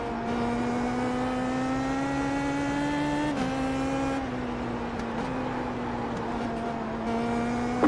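Race car engine in the iRacing sim during a D-class race, a loud steady high drone with clear harmonics that rises slowly, drops briefly with gear shifts and rises again, heard close from the cockpit.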